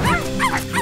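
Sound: cartoon puppies yipping excitedly

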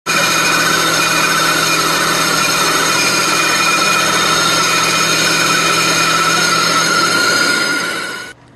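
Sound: bandsaw cutting a piece of plexiglass

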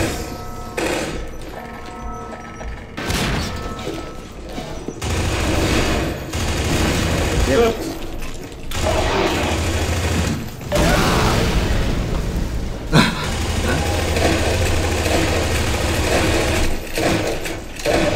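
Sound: gunfire in the video game Half-Life 2 Deathmatch

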